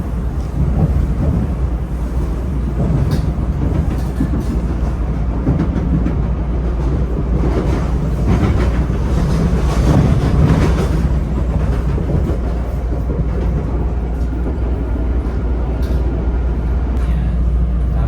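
A Chicago CTA Blue Line subway train near Rosemont rumbles steadily along the tracks, with a constant low roar and faint rhythmic clatter throughout, loud and close from inside the car.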